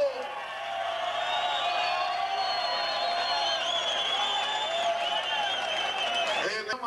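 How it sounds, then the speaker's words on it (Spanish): Crowd applause and cheering at a ranchero jaripeo, a sustained roar of clapping and shouts with whistles and tonal calls layered over it before it drops off abruptly. "brindenle el aplauso"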